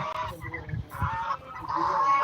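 Farm poultry, including ducks, turkeys and desi hens, honk and cackle together at close range, a busy overlapping chorus of calls that keeps going.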